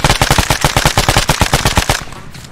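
Rapid machine-gun fire in the video game Arma 3, a loud, close, evenly spaced burst of about twenty shots that stops abruptly, leaving a faint tail.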